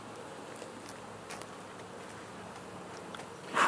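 Honeybees buzzing around a beekeeper's head at a hive, a faint, steady insect hum close by, with a brief louder swell at the end.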